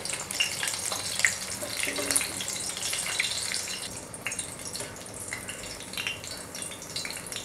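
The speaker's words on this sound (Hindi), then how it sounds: "हमने फ्लेम को लो करके इन्हें फ्राई किया है" Chicken chapli kebabs fry over a low flame in a pan, producing a steady, close hiss and crackle with scattered sharper pops throughout, heard alone.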